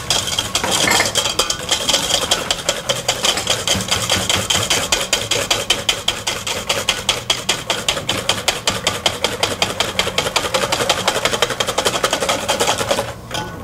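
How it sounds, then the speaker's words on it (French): Six egg yolks whisked with the remaining sugar in a bowl, a fast, steady run of light metallic clicks and taps against the side, continuous and close for most of the stretch before stopping near the end. "Je mets 6 jaunes d'œufs à blanchir avec le restant du sucre."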